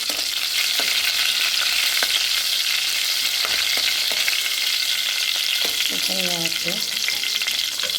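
Mustard seeds, cumin, curry leaves and coconut fry in oil for a mango curry, giving a loud, continuous crackling sizzle with scattered pops, and a voice briefly speaks near the end.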